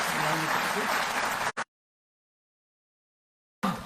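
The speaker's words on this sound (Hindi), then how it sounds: "तो एक बार जोरदार ताली" Loud audience applause at a Delhi government event for regularising outsourced employees: a dense burst of clapping for about a second and a half, then an abrupt cut to silence before the clapping briefly returns.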